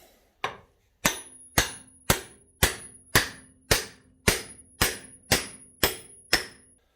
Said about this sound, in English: Got a proper hammer.